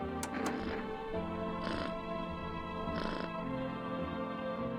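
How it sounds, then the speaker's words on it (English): A video game cat meows and purrs, several bright, short meow calls over a steady low rumbling purr, heard close and clear without talk. "Yay, the kitty likes me!"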